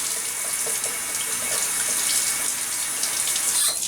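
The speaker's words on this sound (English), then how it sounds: "These are just some russets. I'm going to give them a little rinse." Tap water runs steadily into a sink while russet potatoes are rinsed under it, a close, even splashing flow that stops abruptly at the end.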